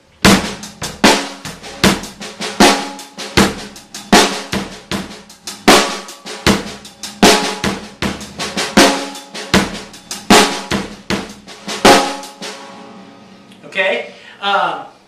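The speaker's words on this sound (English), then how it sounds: "All we have to do to make that into a groove now is to add some kick drum." A drum kit plays a steady groove of paradiddle-diddle snare strokes with soft ghost notes over kick drum hits, crisp and close for about twelve seconds before stopping.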